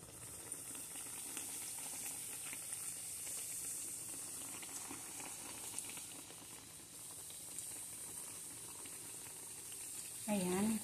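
Donuts frying in hot oil give a steady, quiet bubbling hiss that runs throughout, with a brief louder burst near the end.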